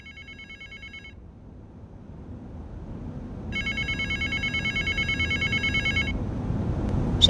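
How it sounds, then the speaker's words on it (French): A telephone in a parking garage rings in two bursts of rapid electronic trilling over a low, rising background rumble, with a faint click at the very end. "le téléphone du parking a sonné"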